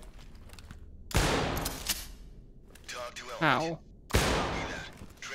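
Gunfire in the tactical shooter Ready or Not comes in two loud, sharp bursts a few seconds apart, with quieter game sounds and a brief voice in between.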